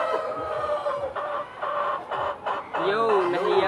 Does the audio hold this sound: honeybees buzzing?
no